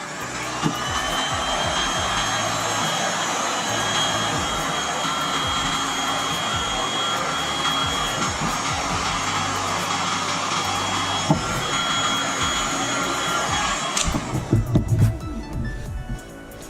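A heat tool blows hot air onto a cured epoxy resin piece to loosen it, making a steady whirring, rushing drone for around fourteen seconds before it cuts out, followed by faint handling clatter.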